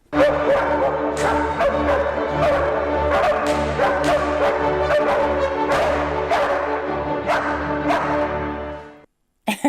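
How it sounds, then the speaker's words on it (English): Dogs bay and bark repeatedly over a full orchestral passage, the barks cutting through the music in sharp bursts before it ends abruptly. "6 bars of the symphony should be accompanied by baying hounds"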